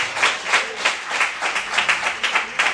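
Church congregation clapping in a steady, even rhythm, loud and close, with the claps carrying on without a break and no talk over them.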